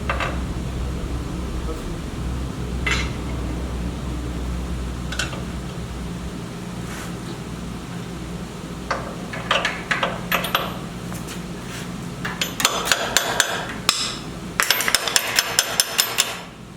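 Bolt being tapped into a Jeep Gladiator long arm suspension kit in a shop, heard as a run of sharp metallic hammer strikes that grow denser toward the end over a steady low background hum.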